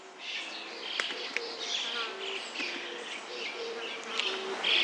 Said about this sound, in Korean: 파리도 날아다니고